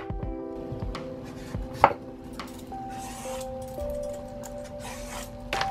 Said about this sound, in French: Je vais l'éplucher et la râper.